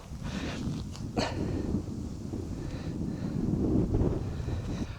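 Wind buffeting the microphone on a high-elevation golf course in Colorado, a low rumbling gusty roar that swells and eases steadily, no talk.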